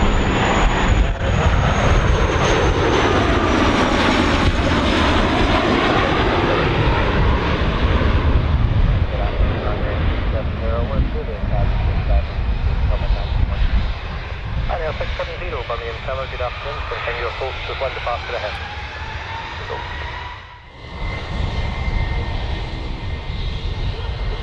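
A Monarch airliner at Birmingham Airport spools up and roars for takeoff on runway 15, a loud sustained jet rumble with rising and falling whine, and air traffic radio talk plays over it.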